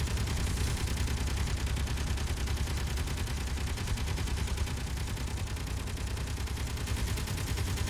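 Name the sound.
gunfire from ships in the video game Space Engineers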